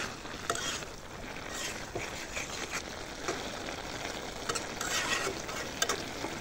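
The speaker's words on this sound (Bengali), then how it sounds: "এখন আবারও নেড়ে চেড়ে দিচ্ছি" Rohu fish curry with pumpkin greens gets stirred in a pan, a soft, continuous sizzle with scattered scraping strokes of the spoon at an even, moderate level and no talk.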